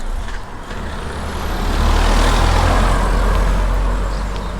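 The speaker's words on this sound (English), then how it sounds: "Let's just let this car go." A car drives past on a quiet village road in Fotheringhay. Its loud, broadband engine and tyre rush swells to a peak around the middle, then eases off slightly as it moves on, with no talking.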